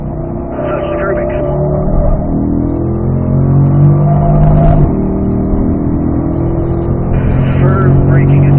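A race car on a circuit's north course brakes hard and downshifts, and its engine note steps down through the gears. A steady motor drone runs close and loud throughout.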